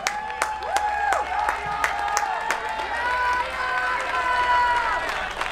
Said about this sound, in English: And the German cheer goes up.